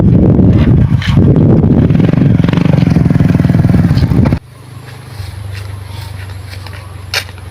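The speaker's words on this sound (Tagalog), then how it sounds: "Park mo muna natin yung motor." A loud motorcycle engine idles and rumbles close by, then cuts off abruptly, leaving a quieter low hum and faint background noise.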